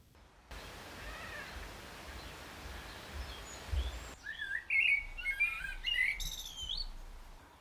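Small garden birds such as tits, a robin and a blackbird chirp and call close by, with bright overlapping tweets growing busier partway through over a steady outdoor hiss and low rumble.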